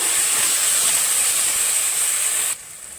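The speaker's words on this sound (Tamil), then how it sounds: "தக்காளி நல்லா வதங்கி வரணும்." Tomatoes sautéing in a pan with mint and coriander for tomato rice, giving a steady loud sizzling hiss that drops abruptly near the end.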